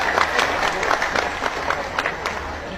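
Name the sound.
applause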